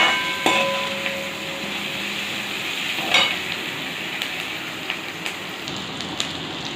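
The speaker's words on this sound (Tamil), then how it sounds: "இப்போ வந்து வெங்காயம் நல்லா இப்படி வதங்கிடுச்சு" Onions sauté in a pan for fried rice with a continuous close sizzle and hiss, punctuated by a few sharp clinks and scrapes of a utensil.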